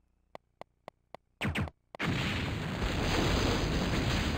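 In the video game Silent Bomber, a destroyed container explodes: several sharp evenly spaced ticks and a brief whooshing burst lead into a loud, sustained booming roar that fills the rest of the moment.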